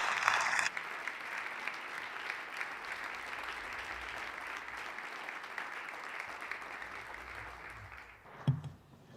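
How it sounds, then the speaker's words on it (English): Sustained applause fills a legislative House chamber as members welcome visiting students, a steady even clatter of many hands from start to finish, then a lone thump near the end as it dies away. "give them a round of applause"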